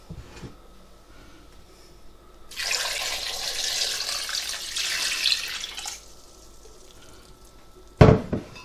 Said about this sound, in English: Then we're going to put 1 litre of cold water in.